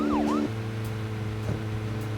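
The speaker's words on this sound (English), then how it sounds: "Totally worth having to listen to that siren." A police car siren in the video game Deadly Premonition wails up and down briefly at the start, then steady engine-like tones hum on, with a second faint sweep midway.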